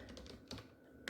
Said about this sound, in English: Look at how am I typing? Typing terribly, guys, terribly.